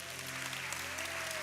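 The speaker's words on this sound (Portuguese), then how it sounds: "Aplauda o Senhor." A church congregation claps in a dense, steady wash of applause that fills the whole moment evenly, with no single voice standing out.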